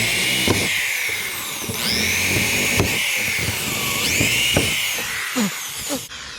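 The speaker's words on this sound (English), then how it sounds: "just go ahead and drill" A DeWalt cordless drill bores into the hull of a Nirvana Watersports Striker skiff while rigging it, high whining bursts that start and stop in short pulses, close and loud, with clunks of handling between runs.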